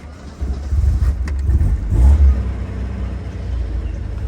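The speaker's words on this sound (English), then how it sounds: "let's warm it up, or start it up to warm it up." A 1968 Alfa Romeo 1750 Spider Veloce engine starts with a quick crank, catches, and settles into a close, low rumbling idle as it warms up.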